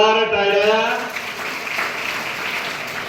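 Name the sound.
loud applause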